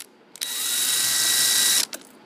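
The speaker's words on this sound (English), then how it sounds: "quarter-inch hex drive impact driver set on low, of course." A quarter-inch hex drive impact driver set on low drives a small screw in one steady, close whirring burst of about a second and a half, with brief clicks just before and after.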